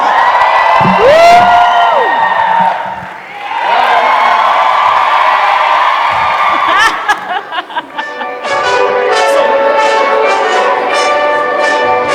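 A live podcast audience erupts with whoops, shouts and cheering that rises and dips, then swells again into a dense, loud crowd roar.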